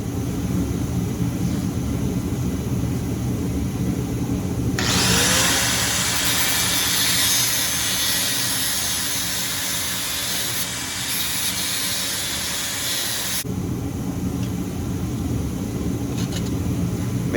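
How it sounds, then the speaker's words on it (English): An angle grinder cuts welds off a part from an Onan CK series engine, a steady loud harsh whine holding for about nine seconds over a constant droning background, then cutting off abruptly. "let's grind one of these welds off and see if we can straighten it up a little bit"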